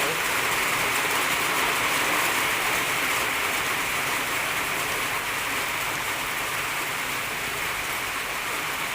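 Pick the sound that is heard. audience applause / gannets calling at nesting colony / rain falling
rain falling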